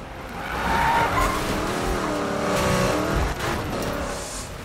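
Ken Block's Hoonicorn 1965 Ford Mustang skids in the video game Need for Speed (2015), its tires squealing loudly and continuously as the engine revs hard underneath, with no voices.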